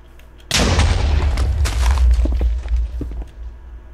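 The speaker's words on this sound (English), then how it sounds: "Yep, he's throwing TNT." A Minecraft TNT block detonates with a sudden loud boom, then a rumbling roar that tapers off over a few seconds, with a few thuds in the tail.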